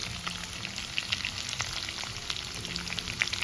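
Onions fry in hot oil in a wok, giving a steady close sizzle throughout with faint crackling pops and no talk.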